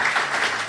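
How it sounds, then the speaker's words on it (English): Podcast studio audience gives a round of applause: a dense, steady wash of clapping, close and fairly loud, lasting under a second. "So I would actually like you guys just to give them a round of applause."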